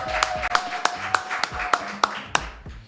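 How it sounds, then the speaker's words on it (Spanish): A small studio audience welcomes a guest with sparse, distinct hand claps, roughly ten sharp hits at an uneven rhythm, close by, with faint talk underneath. "lo vamos a recibir con un fuerte aplauso,"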